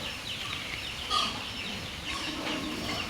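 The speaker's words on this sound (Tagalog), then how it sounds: "yung mga maliliit na pabo, ayan sila" Soft clucking and chirping from young turkeys over steady outdoor background noise, with a brief louder burst partway through.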